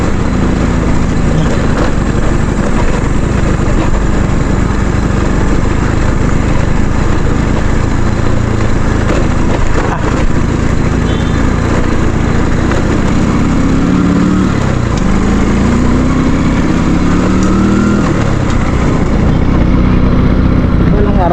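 An older motorcycle's engine hums continuously and fairly loudly through a long stretch of riding, its drone rising and falling slightly, with a voice faintly present underneath.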